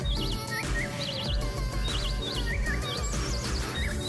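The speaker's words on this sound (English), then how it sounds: "There's more birds up there." Wild birds chirp from the trees overhead in repeated short, high whistling phrases, with several calls overlapping against a faint background.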